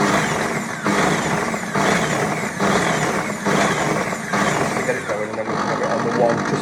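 A kitchen appliance motor runs while mixing food, giving a loud, close mechanical whir that pulses in roughly one-second bursts with brief dips between them. No voices are heard.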